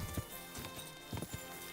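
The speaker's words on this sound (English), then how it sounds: "I got a jumping horse." A horse's hooves clip-clop in a medieval video game world, a few uneven thuds at moderate distance over faint background ambience.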